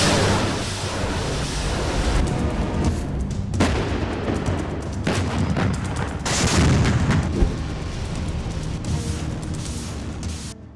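Heavy booming blasts of howitzer artillery fire rumble repeatedly, loud and dense, with roaring echoes between shots and no speech.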